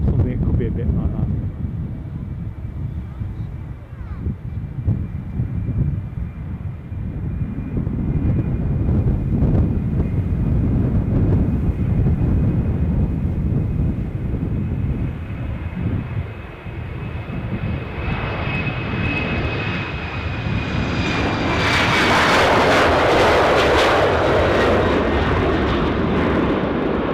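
An Embraer 190 jet at Amsterdam Schiphol airport drones steadily at a distance, its engine roar swelling and rising in pitch toward the end, with wind buffeting the microphone throughout.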